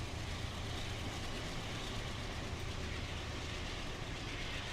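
A train in the game Train Simulator Classic rumbles steadily as it brakes on approach to a city platform, a continuous broadband rolling roar with no voices.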